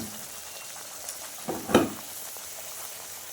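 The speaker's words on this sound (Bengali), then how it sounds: "এখন এই যে লুচিগুলো আমি ছেঁকে নিচ্ছি" Luchi fry in hot oil with a soft steady sizzle, broken by a few brief splashes and clatters as they are lifted out, fairly quiet and close.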